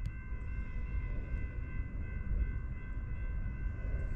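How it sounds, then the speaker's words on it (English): A CSX M409 freight train rolls past on the Lehigh Line, a steady low rumble of rail cars with sustained whining tones throughout, fairly distant and continuous with no horn. "Ninth train of the morning."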